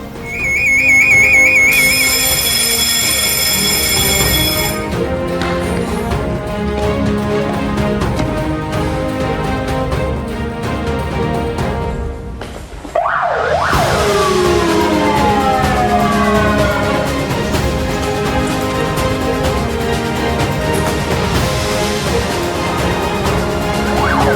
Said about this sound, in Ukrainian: Яким чином спрацьовує пожежний ручний сповіщувач, ми зараз вам продемонструємо.